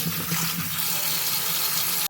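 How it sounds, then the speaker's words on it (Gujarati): Water splashing and running in a container as potatoes are rinsed, a steady close gush that cuts off abruptly at the end. "હવે આપણે એના આવી રીતે બે ત્રણ પાણી બટેટાને વોશ કરી લઈશું વ્યવસ્થિત રીતે"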